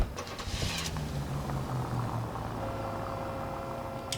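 A Nash car's engine runs in the video game LA Noire, a steady, moderately loud rumble with a brief rising whine early on and a faint high tone near the end.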